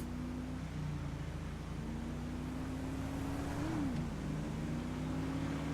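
Truck driving past in a GTA roleplay game, a steady engine drone with a tonal hum that bends in pitch briefly midway, fairly quiet and constant throughout without speech.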